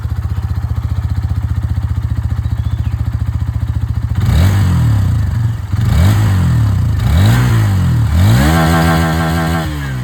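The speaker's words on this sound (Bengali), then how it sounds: "দুটো বাইকেরই আওয়াজ আপনারা এখানে শুনেছেন" A 2024 Hero Xtreme 160R 4V motorcycle engine idles with a steady close putter, then is revved in four sharp rising-and-falling bursts, loud and alone.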